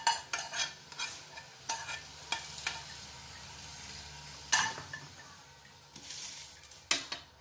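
A carrot and tomato mixture cooks in a pan with a soft sizzle, while a utensil scrapes and knocks against it in irregular stirring strokes, close and clear, with no speech.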